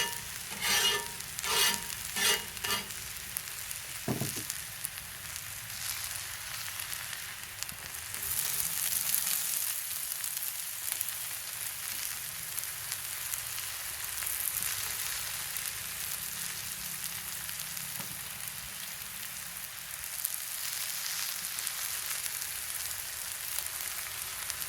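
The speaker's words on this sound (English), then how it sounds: "I'm going to go ahead and put on my peppers and get them cooking" Peppers cooking in oil on a mesquite charcoal grill give a steady soft sizzle and crackle, with a few sharp clinks early on and no talking.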